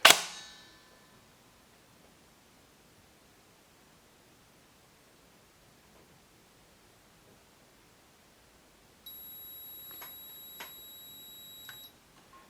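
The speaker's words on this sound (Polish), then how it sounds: "Był sygnał dźwiękowy" A Perun ETU++ airsoft gun controller gives one continuous electronic beep lasting about three seconds near the end. It follows a sharp click at the start and a long quiet stretch, with faint ticks during the tone.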